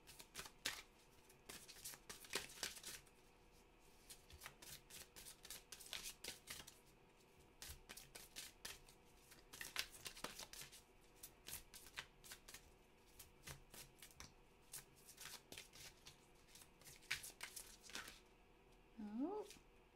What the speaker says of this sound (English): Now I'm going to draw a Goddess Guidance card for Virgo and see what we've got coming up.